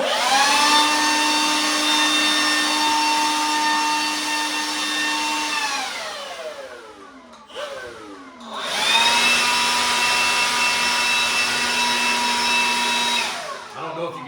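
A cordless DeWalt 20V or Makita 18V leaf blower whines loudly up close, spins down to near silence, then starts again and runs steadily before winding down once more.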